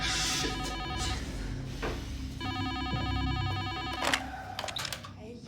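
A ringing electronic buzzer at an apartment building door, a repeated tonal ring in bursts, loud and close, with people talking around it.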